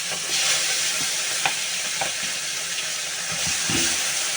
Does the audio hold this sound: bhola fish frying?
yes